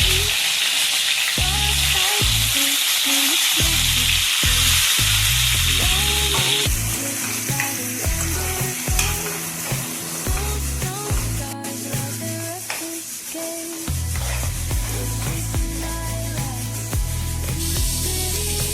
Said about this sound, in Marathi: आता भरलेली वांगी कढईमध्ये टाकून घ्यायची।